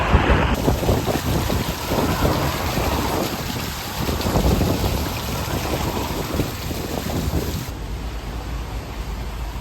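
Wind and rain from a spring storm in Spain, a loud, continuous roar of gusting air and falling water that holds steady for the whole stretch, with no voices.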